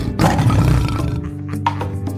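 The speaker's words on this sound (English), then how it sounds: "Tiger." A tiger roars once, a loud, rough, deep growl that swells and then tails off into a rumbling grunt, alone and close, with no talking over it.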